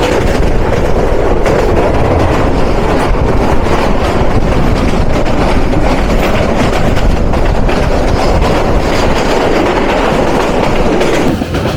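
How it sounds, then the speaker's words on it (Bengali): Kishoreganj Express train running toward Dhaka, a loud, continuous rail rumble with rhythmic clickety-clack of wheels heard from onboard, steady throughout. "ঢাকার পথে ছুটে চলছে কিশোরগঞ্জ এক্সপ্রেস।"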